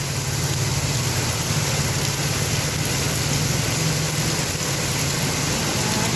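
Heavy rain pours on a flooded Bangkok street as traffic passes, a continuous loud wash of rainfall layered over a low steady engine rumble, with no voices.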